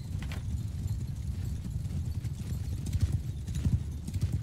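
Horses galloping during a large siege battle in the video game Mount & Blade II: Bannerlord, with dense, rumbling hoofbeats of many riders close by, continuous with no break throughout.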